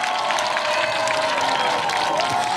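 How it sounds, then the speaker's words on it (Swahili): A crowd at a cash transfer event in Garissa applauds with steady, continuous clapping and cheering, loud and unbroken across the stretch, with a droning tone running underneath. "Wapi makofi jamani?"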